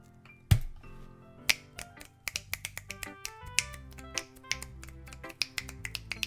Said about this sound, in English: You better be fucking snapping your fingers to that poem